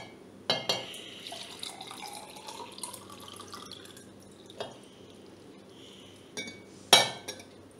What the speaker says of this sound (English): And now I will pour water equally.